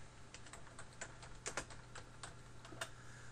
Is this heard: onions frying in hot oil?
no